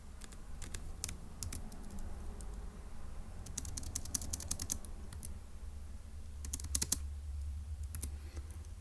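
Typing on a computer keyboard to enter a Turing Machine puzzle solution, bursts of quick close key clicks with short pauses between, over a low steady hum and no talking.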